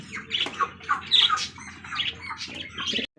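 Pigeons of the Rasgolla breed in a market or dealer's setting make a string of rapid, raspy squawks and calls, fairly close and continuous over a few seconds, with no talk.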